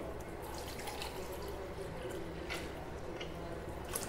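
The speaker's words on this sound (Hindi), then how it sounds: "ये आपने चार लीटर पानी डालना है इसमें ऐसे" Water poured into a pot while four litres are measured out for a jaggery home remedy drink: a steady, faint splashing trickle with small drips, heard up close.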